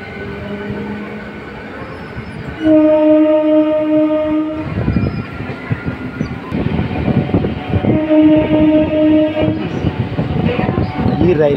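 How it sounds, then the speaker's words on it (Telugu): A train passes Gangineni station near Vijayawada, running between tall hills. Its horn blows in two long, loud blasts over a steady rumble of wheels on the track. "ఆ కొండల మధ్యన ఈ ట్రైన్ చాలా అందంగా అనిపిస్తుంది."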